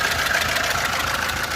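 A 1996 car engine idles steadily up close, a constant mid-pitched hum with a faint rapid ticking rhythm and no pauses.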